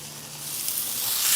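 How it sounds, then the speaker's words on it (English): Ribeye steaks sizzling on a hot Blackstone griddle, a continuous hissing crackle that slowly grows louder, with no talking over it. "You hear that sizzle? You want to hear that sizzle."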